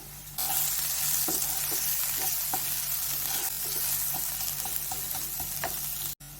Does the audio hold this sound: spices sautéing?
yes